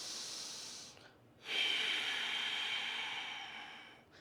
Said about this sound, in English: That's our ocean breath, our Ojjayi breath.